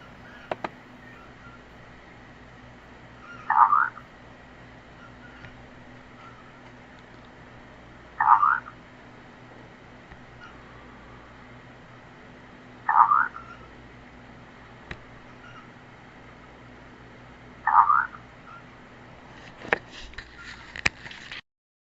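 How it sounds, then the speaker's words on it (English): Four short croaking calls resembling frog croaks repeat at even intervals of about five seconds over a quiet night background, with a faint burst of noise near the end. "The next one here is also another frog sound. I think it might be trying to mimic frogs."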